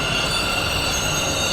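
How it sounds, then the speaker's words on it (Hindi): A Bangalore metro train rolls into the station with loud, sustained high-pitched wheel squeal and a constant rumble of rail noise. "फाइनली ये देखो अभी सिल्क इंस्टीट्यूट वाली अपनी मेट्रो आ गई"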